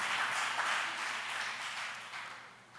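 Congregation members clap their hands in a church service, a continuous crowd patter that starts strong and gradually thins and softens toward the end.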